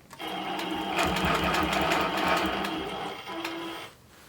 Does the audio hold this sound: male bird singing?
no